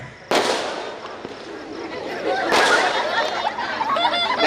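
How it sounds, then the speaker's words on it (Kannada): Firecrackers going off at a mehandi dance program at a home, two sharp loud bursts followed by crackling, with people chattering and laughing in the background. "ಪಟಾಕಿದ ಸೌಂಡ್"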